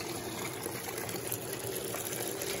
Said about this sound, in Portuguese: Ela enche bem rápido, porque ela joga água aqui por aqui.